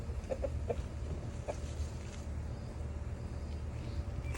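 Chickens cluck softly in a few brief bursts over a low, steady outdoor rumble, fairly faint and somewhat distant.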